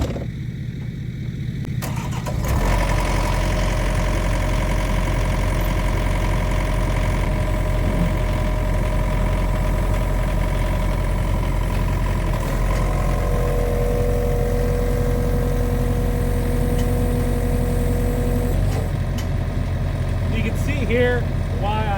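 A brand-new John Deere 50P excavator idles steadily while being parked on a trailer, producing a low, even engine hum. The hum swells slightly after a brief quieter start and holds constant throughout.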